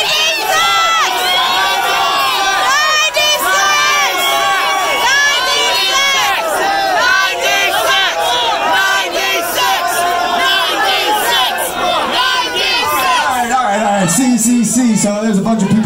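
Concert crowd at a show in a bar and music hall, loudly cheering and shouting a song title together, a dense continuous roar of many voices that thins near the end.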